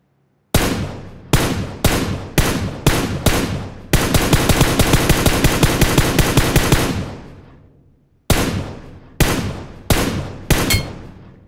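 Gunfire in a mobile battle-royale game: loud single shots spaced in a quick rhythm, then a sustained automatic burst lasting a few seconds, followed by more separate shots.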